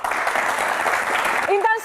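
A television talk show studio audience claps in a brisk burst of applause to welcome panelists, cut off abruptly as a voice begins speaking.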